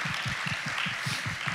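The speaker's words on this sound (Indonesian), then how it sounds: "Kita kasih tepuk tangan dulu." Clapping from a congregation at a Sunday church service, steady applause with a rhythmic beat thumping underneath at a regular pulse, sustained throughout.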